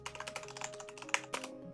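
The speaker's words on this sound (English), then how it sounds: "Why was I typing in Alvin though" Typing on a computer keyboard while building a Sans and Papyrus house in Immersiontale: a quick run of close, crisp key clicks with a few harder taps near the end, over a faint steady background tone.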